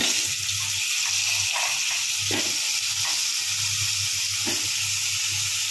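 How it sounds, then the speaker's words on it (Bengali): Potato pieces frying in the same oil just used for tilapia, a loud, even hiss of bubbling oil with soft pulsing surges over a low hum. "এবার ওই তেলেই আলুগুলোকে ভেজে নেবো এক এক করে।"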